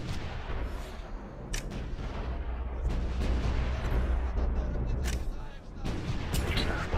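Gunfire in the video game Ghost Recon Future Soldier: dense bursts of shots and heavy booms over a rumbling battle bed, with sharp cracks scattered throughout and voices talking under the combat.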